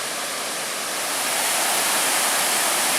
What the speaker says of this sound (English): Now we're coming up to the waterfall, Mandado Falls.